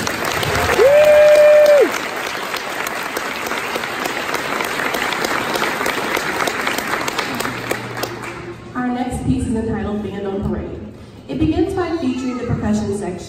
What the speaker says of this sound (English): Let's give them a round of applause for them.